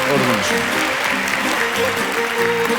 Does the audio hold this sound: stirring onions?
no